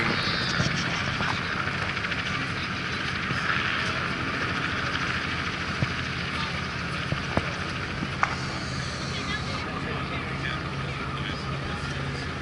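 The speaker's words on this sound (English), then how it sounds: "look at this big old plane" A large airplane landing at Felts Field during an open-house event, a broad roaring engine wash held over the whole stretch at moderate distance, with people talking nearby.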